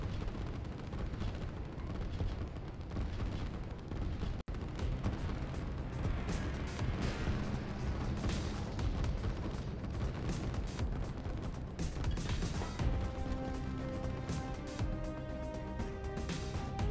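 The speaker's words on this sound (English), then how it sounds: "You see the depth charges going off." Depth charges going off in the Line War strategy game, a dense, continuous barrage of rumbling booms and crackling detonations layered with game audio, loud and sustained throughout.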